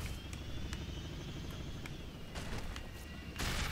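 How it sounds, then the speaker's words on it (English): A helicopter blows up during co-op play in the video game Crackdown 2, a dense roar of rotor and gunfire-like noise with a couple of heavier bursts near the end, loud and continuous with no voices. "Love blowing up my own chopper."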